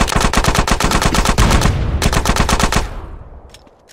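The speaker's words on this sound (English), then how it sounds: "Oh, who's shooting me?" Rapid machine-gun bursts fire at the player in GTA San Andreas, loud and close with many sharp repeated cracks in quick rhythm, then a short pause, a second burst, and a fading echo tail.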